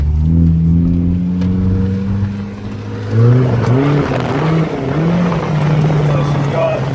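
A car engine with chopped mufflers rumbles loudly and rises into a throaty rev, its low growl wavering as the throttle is worked.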